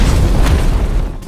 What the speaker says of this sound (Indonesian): gudang tersebut telah diberondong dengan granat